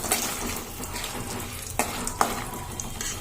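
Dried red chilies frying with mustard seeds, cumin, chana dal and urad dal in a pan, a steady close sizzle with a few sharp stirring clinks.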